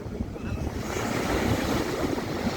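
Wind blowing at Dubai Marina beach, JBR, a steady rushing roar buffeting the microphone, with surf-like wash underneath, loud and constant with no voices.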